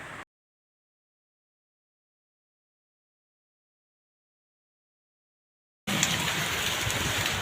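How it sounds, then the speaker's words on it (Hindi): Heavy rain pours in Karachi on the second day of Eid al-Adha, a dense close hiss heard only briefly at the very start and then again near the end after a long stretch of silence. "बड़ी शदीद बारिश हुई है।"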